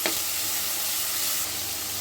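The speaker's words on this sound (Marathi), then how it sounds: "आता ह्याच्यात टमाटे घालतं, ते पण परतून घ्यायचे." Tomatoes fry in a pan of hot tempering, an even close crackling sizzle that holds steady throughout, with a faint stir at the start and no talking.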